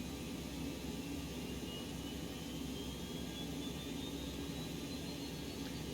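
Simulated Boeing 727-200 jet engines in X-Plane 11, a steady low whine and rumble with a faint rising tone, heard alone and quietly.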